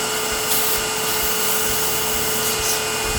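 Light final passes of fine-grit sandpaper over a small wooden Christmas ornament, a close, continuous abrasive rasp with a few stronger strokes standing out, no talking.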